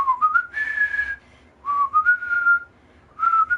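Three clear, rising whistled phrases, each sliding upward and then holding a steady tone before short gaps, loud and close with no talk over them.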